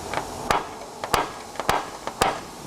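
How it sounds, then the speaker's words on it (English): A hammer strikes a steel punch to make center punch marks in steel while building an exterior custom sign, four sharp metallic blows spaced roughly half a second apart, each followed by a brief ringing tail, close up. "So now I make my punch marks"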